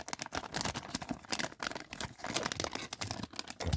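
Crinkly plastic packaging of a US military MRE ration pouch, chicken, noodles and vegetables in sauce, rustles and tears in quick, irregular bursts, close up and fairly quiet, with no speech.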